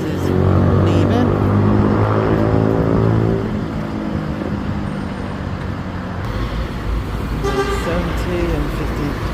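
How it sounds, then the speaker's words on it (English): Buses pulling out of the bus station in Gloucester, with engine rumble and traffic noise, a horn toot near the start and someone talking over the departing vehicles. "Some buses leaving."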